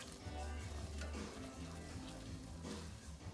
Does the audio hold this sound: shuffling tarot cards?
no